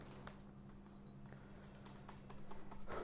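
Computer keyboard typing while entering Arduino pin mode code, a quiet run of irregular light key clicks over a steady electrical hum, growing denser and a little louder toward the end.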